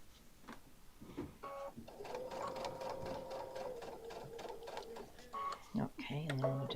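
A sewing machine back-stitches the side seam of a tote bag, running in a steady mechanical whir for a few seconds with small clicks and pauses around it, and someone talks over parts of it.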